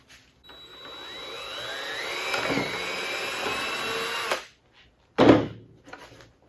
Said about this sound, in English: drill those 3 holes